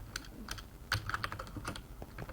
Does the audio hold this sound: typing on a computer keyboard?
yes